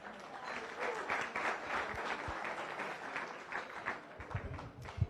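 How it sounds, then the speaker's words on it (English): A crowd at a Rotary Club weekly meeting in Las Vegas applauds, a sustained patter of many hands clapping at moderate loudness for several seconds. "I'd like to have a nice round of applause for them, please."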